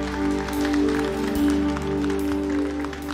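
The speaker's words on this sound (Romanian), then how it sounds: "Să-L aplaudăm pe Iisus." A church congregation claps during worship, the scattered claps sitting under loud, sustained musical tones that fill the space throughout.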